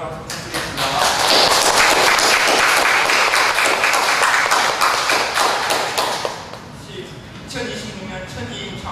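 A church congregation applauding during Sunday service announcements, loud sustained clapping from many hands that fades after about six seconds into quieter room sound.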